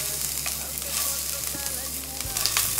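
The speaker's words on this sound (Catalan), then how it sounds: "Ja tenim la paella calenta, posem una miqueta i es tracta de marcar-la molt suaument." Prawns sear in a hot pan with ginger-infused oil, giving a steady, close sizzle with faint crackles and a brief clink near the end, no voices.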